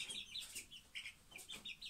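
A month-old rooster chick of a Pushkin breed line peeps and clucks repeatedly in quick, high, close chirps while being weighed on a scale, with no talking.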